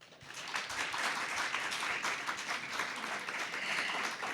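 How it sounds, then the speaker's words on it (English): Audience applause after a school debate speech, steady broadband clapping from a crowd throughout, fairly loud and continuous with no talk over it. "Come on, let the applause reign."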